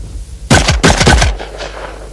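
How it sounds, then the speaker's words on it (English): A Benelli shotgun fires three rapid, loud blasts in quick succession while speed shooting clay targets, each report sharp and close, then fades into a short echoing tail. "so let's speed shoot this Benelli and see just how fast it really is."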